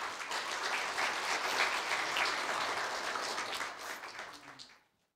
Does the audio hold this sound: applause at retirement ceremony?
yes